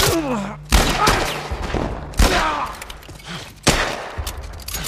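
Gunfire in The Last of Us Part I on PC: three sharp, loud shots about a second and a half apart, each followed by a short echoing tail, amid game ambience and low voice sounds.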